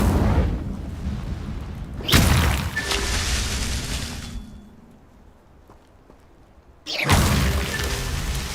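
The Incendio fire spell cast in Hogwarts Legacy gives two loud whooshing bursts of flame a few seconds apart, each fading out, with a quiet lull between them.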